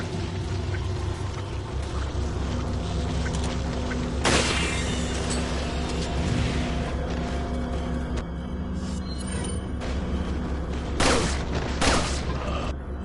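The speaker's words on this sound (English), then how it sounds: "Missed rifle shot, but oh well" Heavy booming rifle shots ring out in a Resident Evil game, set against a dense, loud bed of in-game ambience and rumble, with a couple of sharp blasts standing out.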